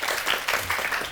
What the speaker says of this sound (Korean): 여러분 김종환 씨 박수로 환영해 주시기 바랍니다.